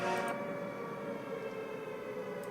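A steady siren-like wail sustains through dense music, loud and continuous, with a brief bright burst at the start.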